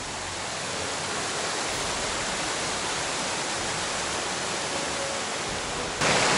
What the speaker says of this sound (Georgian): აი ესეთი ადიდებული მდინარეა